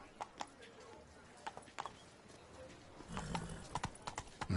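Roach, a horse in The Witcher 3 video game, runs with rhythmic clip-clop hoofbeats under quiet game ambience, and the pace grows busier and louder toward the end.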